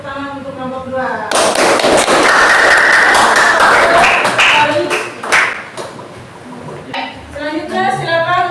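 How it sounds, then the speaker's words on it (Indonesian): A room full of people in a class session bursts into loud applause for a student presentation group, several seconds of dense clapping that rises from speech and then fades back as a voice talks again. "Kita berikan tepuk tangan untuk kelompok 2."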